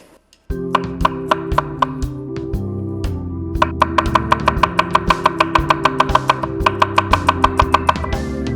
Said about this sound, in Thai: ซอยเหมือนกันครับ หอมแดง